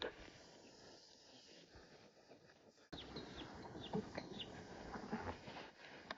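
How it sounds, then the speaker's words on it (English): A peewee (magpie-lark) calls in sharp, repeated chirps over a loud, windy outdoor rumble beside Bulimba Creek, growing busier partway through. "Sounds like a peewee."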